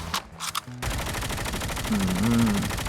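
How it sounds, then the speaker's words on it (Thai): An AK117 assault rifle in Call of Duty: Mobile fires a long, steady burst of rapid automatic shots. A short stretch of talk comes just before the gunfire starts. "เสียงปืนอย่างว้าว"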